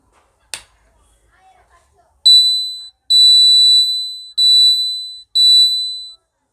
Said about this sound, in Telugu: ఈ విధంగా మీరు ట్యాంక్ అలారం తయారు చేసుకోవచ్చు చాలా సింపుల్గా.